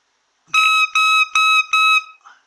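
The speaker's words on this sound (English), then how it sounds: "you can hear the crow is very, very clean, and you can then get the pitch of the reed." A bagpipe chanter reed crows while set in a small extension, giving four short, bright, reedy honks at an even pace, each one clean and steady in pitch, followed by a faint trailing squeak.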